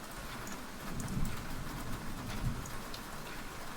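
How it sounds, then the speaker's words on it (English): Steady rain falls during a storm, a soft continuous patter with low rumbling swells underneath, heard quietly and without voices. "And the storm keeping the rest of the world away."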